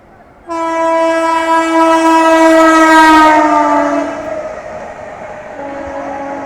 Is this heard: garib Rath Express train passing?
yes